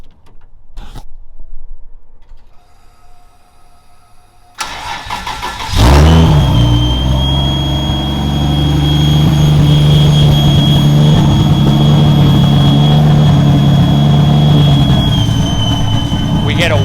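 A 2JZ engine swapped into a BMW E36 cranks and fires up after a few seconds of quiet, settling into a loud, steady, smooth idle with a faint high whine and occasional small pops from a lean backfire.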